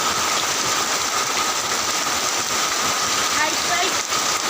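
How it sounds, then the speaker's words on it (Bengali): Steady rain falls outside, a loud, dense, continuous hiss of drops with no breaks from start to finish. "বাহিরে কত সুন্দর বৃষ্টি হইতেছে।"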